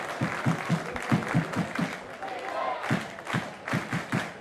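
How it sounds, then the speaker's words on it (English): Home crowd at an A-League women's football match between Wellington Phoenix and Central Coast Mariners, a broad roar of cheering and rhythmic clapping beneath an excited commentator's voice, pulsing in repeated bursts. "Hear the crowd there really trying to get behind their home side"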